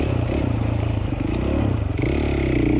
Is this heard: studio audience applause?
no